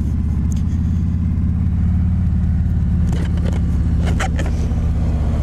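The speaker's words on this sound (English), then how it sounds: "I figured I'd start the day out on a street glide." A 2020 Harley-Davidson Street Glide Special FLHXS rumbles steadily while being ridden, its deep V-twin engine loud and close throughout, with wind buffeting and a few faint higher scrapes near the end.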